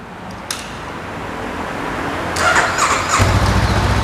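A stock-exhaust 2020 Honda CBR500R motorcycle cranks and fires up after a short click, settling into a steady, close idle rumble with no talking.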